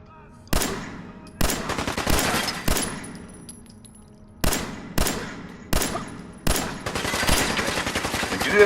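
Gunfire in Fallout 4 comes in repeated loud bursts, several rapid volleys of shots separated by short pauses, close and dominant, with a continuous stretch of firing at the end.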